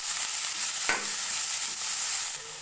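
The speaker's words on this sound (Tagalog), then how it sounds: "Haluin lang po natin ng mabuti para maghiwa-hiwalay po ang ating giniling at para maluto po ito ng maayos." Ground meat sautés in a pan with onion and garlic and is stirred steadily, giving a continuous loud sizzle with one sharp scrape of the spoon partway through.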